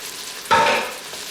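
Mushrooms hit the hot pot of an Instant Pot on saute for beef stroganoff, with a sudden close sizzling burst that fades over the next second.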